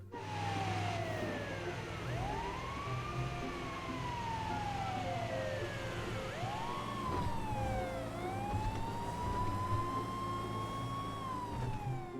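A wailing emergency siren in GTA 5 rising and falling in slow sweeps, with a second siren overlapping, over a constant engine hum.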